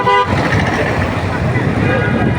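Busy road traffic with vehicles, including auto-rickshaws, rumbling past nearby and a loud horn toot at the start, under a constant roar of engines and general street noise.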